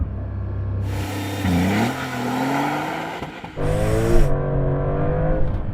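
A Porsche 911 Turbo S launches hard from 0 to 60 on cold tyres, its engine rumbling and then climbing through rising revs with gear changes, loud and close throughout with no talking.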